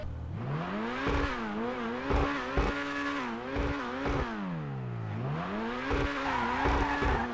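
A Chop Shop DLC car in GTA 5 Online, heard from the interior, its engine revving up and down through gear shifts with repeated tire squeals and skids, loud and continuous.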